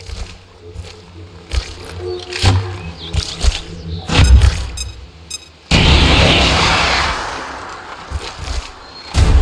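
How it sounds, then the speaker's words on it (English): A grenade blast in the video game XCOM 2 lands as a loud broadband boom near the middle, followed by a sustained rumbling roar and scattered thuds and impacts, with no talk over it. "Throwing grenade!"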